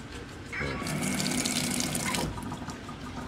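Strong stream of water running from a tap in the washing area of a lakefront campsite in Talisay, Batangas, a steady close hiss rising for about two seconds then easing, with faint background sound.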